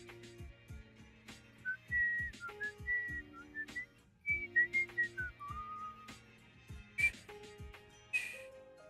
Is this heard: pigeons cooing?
no